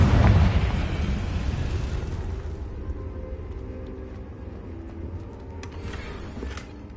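A Confringo spell bursts in a Hogwarts video game, a loud explosive boom at the start that rolls into a long, fading rumble with crackling debris, and a faint flare near the end.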